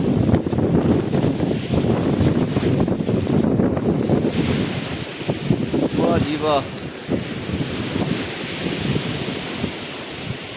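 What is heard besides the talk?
sea waves and wind on the Montenegro coast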